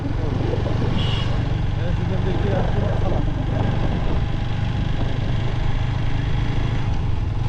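A Pulsar motorcycle out riding gives a constant engine drone blended with road and wind rush, with a voice faintly heard under it.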